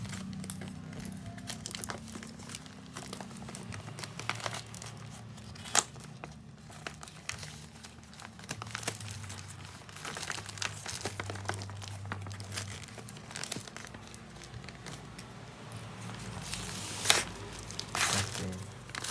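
Thick gift wrapping paper being torn and unwrapped from a book package, with repeated loud crinkles, rustles and tearing bursts close by over a low steady hum.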